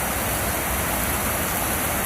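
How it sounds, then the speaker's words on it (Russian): River water rushes steadily through a town embankment in Yalta, a dense, even hiss of flowing water with no change in level and no voices. "Это вода льется где-то."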